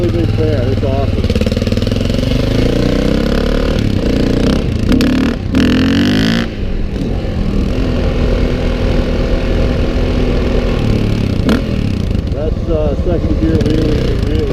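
A motorcycle engine revs and pulls steadily while riding, a loud, continuous drone with shifting pitch as the throttle rises and falls, someone talking over it.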